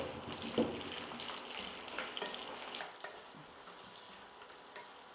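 Twenty halved small onions frying with coconut pieces in a pan for mushroom theeyal, a close, continuous sizzle with scraping stirs, louder at first and then settling into a softer, steady crackle.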